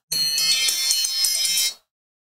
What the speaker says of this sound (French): Pendant la route là, cling, téléphone ou sonne.